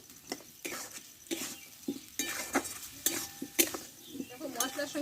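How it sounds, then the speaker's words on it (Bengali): Potatoes stir-fried in spice masala in a pan, with a continuous soft sizzle and a series of scraping, tapping stirs at an uneven pace, heard close up at moderate volume. "আলুটা মশলার সঙ্গে একসঙ্গে কষে নেব একটু টাইম করে।"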